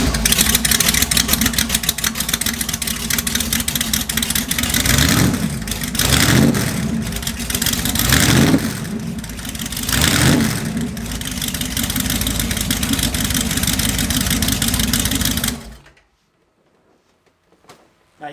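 A 2005 Boss Hoss ZZ4 5.7L V8 motorcycle engine starts up and idles with a loud, deep rumble, then revs sharply several times before cutting off into silence.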